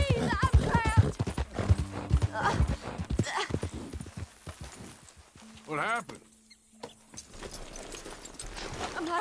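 Horse hooves clip-clop from Red Dead Redemption 2, with a brief whinny-like cry, heard under frequent game dialogue and other voices.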